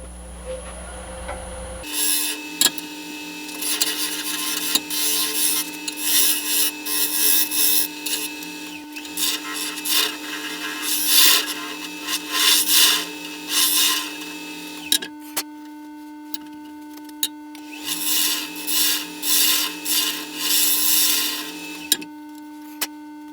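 A wooden acorn box spins on a woodturning lathe, giving a steady motor hum with a tonal whine while the tool repeatedly scrapes the outside in loud, rasping bursts. It pauses briefly around the middle and runs alone without talk.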